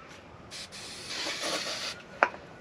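A short hiss of activator sprayed onto glue at the 45-degree mitre joint of two render beads, faint and close, rising and fading over a couple of seconds, followed by a sharp click as the beads are pinched together.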